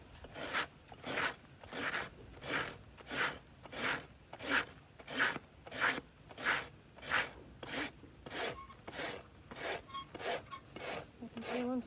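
A rasp files a horse's hoof during trimming, with slow rhythmic strokes, about twenty scrapes in a steady back-and-forth pattern, close and fairly quiet.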